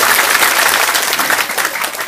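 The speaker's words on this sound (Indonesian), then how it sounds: "Tepuk tangan." A crowd at an Islamic sermon gathering breaks into brisk, loud applause, close dense clapping lasting about two seconds.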